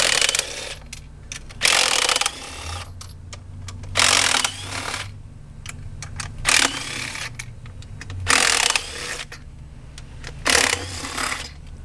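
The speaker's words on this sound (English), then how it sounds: "I can go ahead and start with unbolting all the bolts around the perimeter" A ratchet unbolts the 8mm intake manifold bolts on a Chrysler 3.6 engine from a 2011-2017 Chrysler 300, Dodge Charger or Challenger, giving short bursts of rapid clicking separated by pauses, close and clear with a faint low hum underneath.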